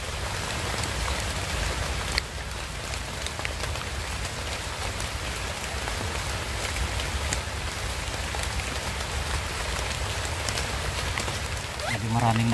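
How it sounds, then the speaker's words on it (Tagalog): Rain falls steadily outdoors among leafy trees, a constant close patter and hiss on leaves and surfaces, with a brief voice near the end. "Umuulan na guys."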